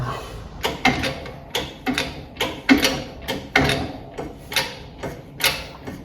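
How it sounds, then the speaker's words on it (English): A ball joint being pressed out of a front upper control arm from a GM A-body car, heard as a steady run of sharp mechanical clicks and ratcheting knocks from the press, close and fairly loud, with no talking. "I got it here in the press, and I did a cutout washer and slipped it around so it's going to push out"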